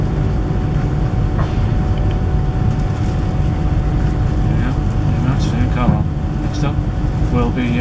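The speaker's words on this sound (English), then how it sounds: "We're on travel on the 390 train today" An Avanti West Coast Class 390 train leaving Carlisle gives a steady loud rumble of running noise throughout, with faint squeals and rattles, heard from on board.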